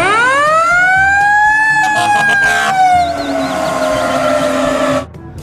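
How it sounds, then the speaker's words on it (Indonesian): A loud wailing fire engine siren rises in pitch and then sweeps slowly back down, close by, before cutting off abruptly near the end. "Di sini ada mobil pemadam kebakaran."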